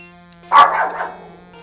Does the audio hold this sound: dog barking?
yes